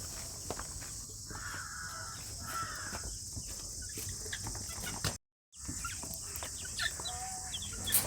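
Colored chicks and chickens cluck and chirp faintly in short, scattered calls over a steady background hiss, with a brief dropout partway through.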